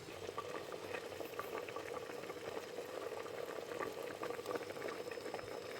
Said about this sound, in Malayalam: തിളച്ച വെള്ളം അരി ഇട്ട് കൊടുക്കുക മുഴുവൻ അരി ഇട്ട് കൊടുക്കുക